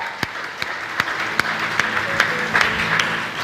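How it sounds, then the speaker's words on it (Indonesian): A worshipping congregation claps during a Sunday church service, with rhythmic, fairly regular beats over a sustained background of keyboard tones, moderately loud. "Beri tepuk tangan dong untuk Tuhan."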